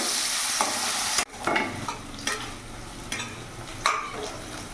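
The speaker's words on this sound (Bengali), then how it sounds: "দেখতে পাচ্ছ পেঁয়াজটা বাদামি রং হয়ে এসছে" Onion frying in refined oil until light brown gives a loud, dense sizzle at close range. A sharp clatter cuts in partway through, and the crackling then carries on more softly with intermittent stirring scrapes. No voices.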